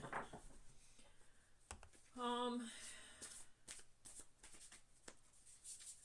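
A deck of tarot cards is shuffled by hand: soft scattered rustles and card slaps, then a quick, buzzy riffle in the middle, followed by more light shuffling, close and fairly quiet.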